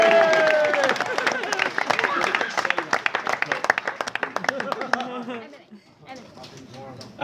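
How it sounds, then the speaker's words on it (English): Wedding guests break into loud, sustained applause and clapping at a reception, dense and close for about five seconds before thinning out into scattered claps and crowd murmur. "Give yourselves a round of applause."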